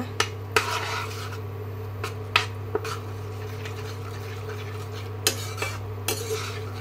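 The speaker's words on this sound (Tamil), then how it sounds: "ஆட் பண்ணி நல்லா மிக்ஸ் பண்ணிடுங்க" Intermittent clinks and scrapes of a utensil stirring paneer bhurji gravy in a pan over a steady low hum, with no talking.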